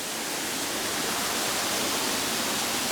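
A nearby stream rushes down a small wooded hillside, a steady, dense hiss of flowing water that stays loud and unbroken throughout, with no voices over it.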